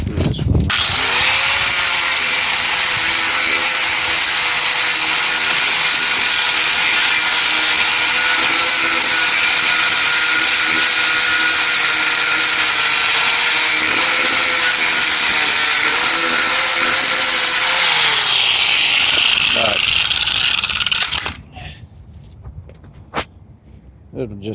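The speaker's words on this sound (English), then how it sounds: "I can kind of grind all these off and make it look pretty good" A power grinder runs steadily and loud for about twenty seconds, grinding old welds off the hood of a 1969 VW Vette, its pitch dipping slightly under load before cutting off and leaving brief quieter noises.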